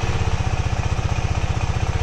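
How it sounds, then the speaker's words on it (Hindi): A KTM 390 Adventure single-cylinder motorcycle engine runs close by with a fast, even, loud chugging pulse, steady throughout without voices. "अब हम बाइक को स्टार्ट करेंगे।"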